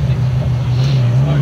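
A Nissan 370 drives away from UrbanWerks with a steady, droning low engine hum that holds throughout, while people talk over it.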